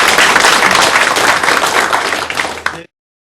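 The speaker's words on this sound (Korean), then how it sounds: "여러분의 힘찬 박수로 시작하겠습니다" Loud, dense applause from the audience opens a book launch at the Press Center in Gwanghwamun, Seoul. Clapping fills the room close and steady for nearly three seconds, then stops abruptly.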